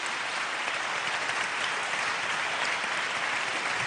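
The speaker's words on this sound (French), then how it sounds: "Donc, on peut les applaudir, c'est la première fois." Audience applause at a national awards ceremony, a steady, dense wash of clapping that holds evenly throughout with no voices over it.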